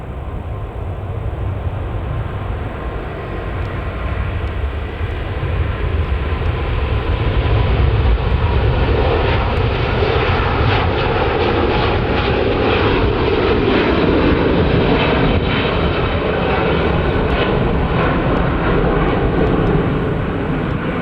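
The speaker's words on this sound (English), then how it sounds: "beginning its takeoff run, we've got an Airbus A350 1000 Virgin Atlantic to Orlando" Airbus A350-1000 jet of Virgin Atlantic on its takeoff run at Manchester Airport, a loud, sustained roar of engines that stays heavy and steady throughout, heard from the airport perimeter with no talk.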